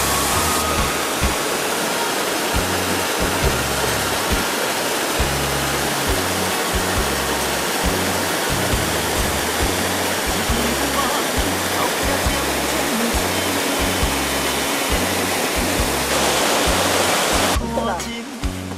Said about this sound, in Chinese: 啊，瀑布啊！